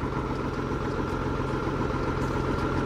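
Steady low rumble of a truck engine idling smoothly nearby, constant and unbroken throughout.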